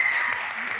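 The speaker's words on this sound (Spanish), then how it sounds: "pero le brindamos un fuerte aplauso" Applause from the crowd for a heavyweight (+89 kg) men's weightlifting competitor after a failed lift, a steady dense clapping throughout the short stretch.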